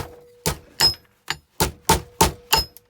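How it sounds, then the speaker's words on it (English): A masonry brick hammer strikes small pieces of scrap metal, seven firm, ringing blows at an uneven, steady pace, close and loud with nothing else around. "with that sharpened end of this brick hammer, masonry hammer, it's easy enough to get in there"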